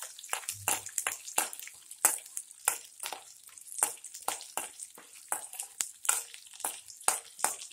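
Small shallots sautéing in oil with chana dal and urad dal, a steady crackling sizzle broken by repeated sharp scraping strokes of a spatula stirring the pan, close and fairly quiet with no talk.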